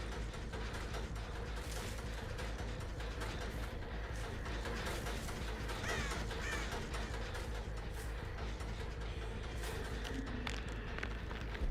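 Crow cawing in the horror game Dead by Daylight, a disturbed bird raising an alarm amid steady in-game ambience, the harsh caws repeating across the stretch without any talk.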